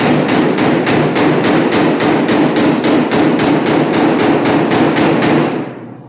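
Metal hammer rapidly striking a car body panel to work out a low spot, a loud, even rhythm of about four blows per second for nearly six seconds, then stopping; no voices.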